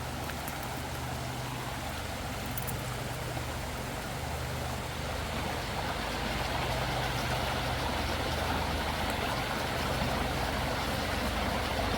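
Steady broadband rush of Anderson Creek flowing beside a roadside path near Anderson Bridge, a continuous even wash of water with a low rumble underneath and no talking.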